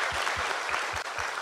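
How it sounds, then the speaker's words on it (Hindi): Applause from an audience at a Modicare success-story gathering, dense steady clapping close by with a regular rhythmic beat running through it. "आपके खुद के लिए ताली बजा लो भैया।"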